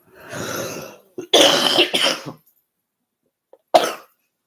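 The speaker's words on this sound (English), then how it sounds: "Every time I cough, I release." A person coughs several times in a row: a long harsh cough, then a burst of rougher coughs, a pause, and one more short cough, close and fairly loud.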